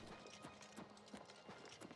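Horse hooves in Oblivion Remastered clip-clop in a steady, quick gait on hard ground, fairly close and consistent, with a faint background hum and no talk.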